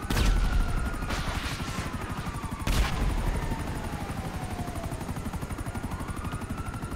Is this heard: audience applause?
no